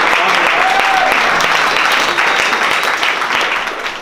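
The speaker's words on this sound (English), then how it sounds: "Round of applause" Applause from a seminar audience at a strength training event in New York City, loud and dense throughout with continuous clapping, tapering slightly near the end.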